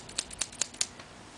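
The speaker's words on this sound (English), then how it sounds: "The man using the scissors." Scissors snip four times in a quick, even rhythm, each cut a sharp, crisp metallic click close to the microphone, with quiet room air between cuts.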